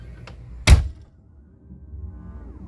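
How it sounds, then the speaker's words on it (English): A 2023 Entegra Qwest 24R motorhome entry door with a power step swings shut in one loud, close, solid thunk, followed by a low, quiet hum. "If I close the door"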